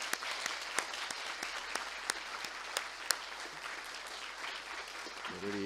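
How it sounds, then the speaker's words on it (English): Graduates of a 2025 MSc and MSS class applaud at their graduation ceremony, a steady crowd clapping with sharp individual claps standing out, fading near the end as a voice starts. "Please give yourselves an applause and congratulations again."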